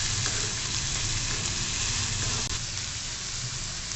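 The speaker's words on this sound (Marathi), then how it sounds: "कांदा चांगला परतवून घ्यायचा" Finely chopped onions sautéing in a pan for a spicy sponge gourd bharta, giving a loud, dense, continuous sizzle that runs close and unbroken throughout.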